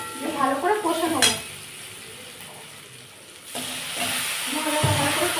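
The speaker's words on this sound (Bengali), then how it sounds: "লঙ্কার গুঁড়ো, ভালো করে কষে নেবো" Chili powder masala fried in a pan for a pointed gourd and minced meat curry, with a steady sizzle and a few spoon scrapes and knocks near the start and again toward the end.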